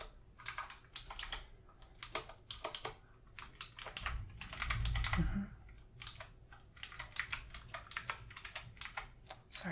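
Close, clicky computer keyboard typing in bursts of rapid keystrokes with short pauses, and a brief low rumble in the middle.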